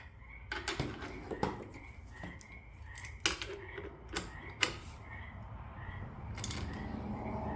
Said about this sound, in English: Tighten that until it pulls the flywheel off.